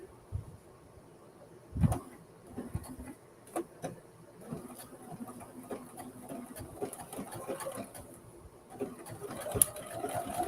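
A home sewing machine stitches denim for jeans in short, uneven runs, with rattling bursts starting and stopping close by and quiet pauses between.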